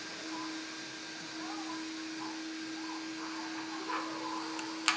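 A small electric RC drag car motor with an upgraded motor and ESC runs at steady speed, a constant high whine holding through the clip with a faint click near the end.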